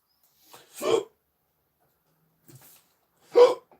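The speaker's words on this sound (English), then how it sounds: "Why is it giving me hiccups?" Three separate hiccups from a person, short sharp vocal bursts with pauses between, close and fairly quiet in an otherwise silent room.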